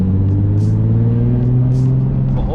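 Nissan Z car with a newly installed stage 3 clutch being driven, a steady loud engine drone with a low harmonic hum holding nearly constant pitch, close and continuous.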